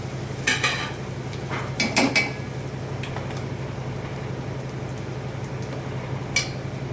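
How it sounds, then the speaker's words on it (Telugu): Cooked rice is stirred into scrambled eggs in a pan for egg fried rice, giving a steady low sizzle under scattered scraping and clinking of the spatula against the pan, with no talking. "ఇప్పుడు దీంట్లో రైస్ వేసుకుంటున్నాను నేను"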